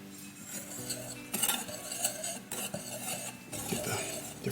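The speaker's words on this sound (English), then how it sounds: "Get the different flours and the yeast and the salt and the sugar all mixed up real well" A utensil stirs dry bread flours, yeast, salt and sugar together in a bowl, giving close scraping and clinking sounds in an uneven rhythm with a few louder knocks against the bowl.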